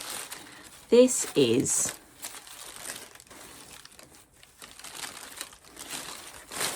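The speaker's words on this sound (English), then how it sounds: "Sorry for any crinkling here." Crinkly packaging from a delivered parcel rustles in a couple of short, close bursts near the start, with a person talking softly across the rest.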